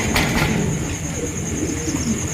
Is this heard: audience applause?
no